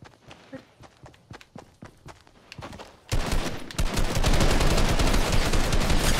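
Sniper rifle shots in Fortnite Chapter 2: a series of sharp, spaced pops for the first three seconds, then a loud, dense burst of continuous gunfire that fills the rest, with no talking.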